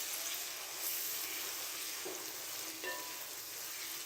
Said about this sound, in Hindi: प्याज फ्राई करने के बाद अब हम यहाँ पे लहसुन अदरक का पेस्ट ऐड करेंगे।